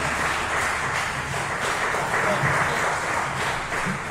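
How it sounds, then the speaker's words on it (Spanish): A church congregation applauds together after a closing prayer, a steady wash of clapping holding at even loudness throughout, with faint voices mixed in beneath it. "Démosle un fuerte aplauso al Señor"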